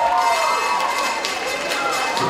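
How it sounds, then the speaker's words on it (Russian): Audience in a school auditorium at a children's competition final applauding and cheering as student patrol members walk down into the hall, a dense, loud, continuous roar of clapping and shouts with no clear speech. "Я прошу дружинников под громкие аплодисменты зрителей спуститься в зрительный зал."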